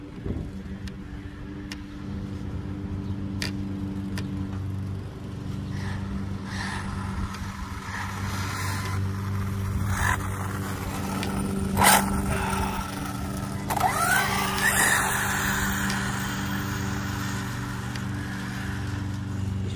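An Arrma Typhon 6S RC car on GRP tyres runs outdoors on a sunny day, its electric motor droning steadily with rising whines and passes, fairly loud throughout with no talking.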